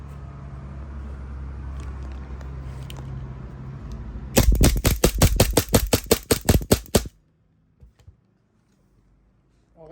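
An E&C Hicapa 5.1 airsoft pistol is fired in a rapid string of about a dozen loud, close, sharp cracks over roughly three seconds after a low background rumble, followed by near silence.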